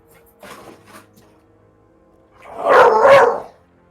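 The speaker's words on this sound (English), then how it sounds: "Hold on, dog's being a dick." A dog barks indoors: two short barks, then after a pause a louder, longer burst of barking close by, with no talk over it.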